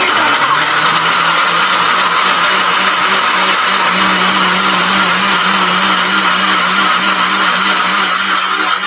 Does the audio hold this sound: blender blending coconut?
yes